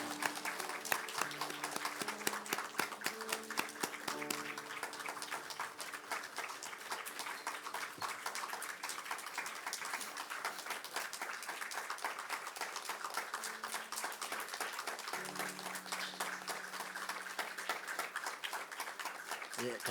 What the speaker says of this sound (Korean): 힘차게 격려와 축복의 박수 보내겠습니다